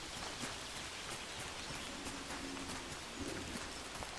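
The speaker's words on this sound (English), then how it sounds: "Oh, it's raining again." Soft, steady rain falls in the video game Among Trees, a faint continuous patter with scattered light drop ticks and no talking.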